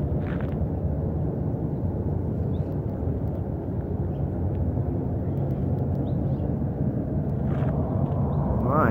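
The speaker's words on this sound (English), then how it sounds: "it's gonna be another really loud jet or something" A loud military jet passes over the DM Air Base area, a steady, heavy broadband roar that holds for several seconds without a break.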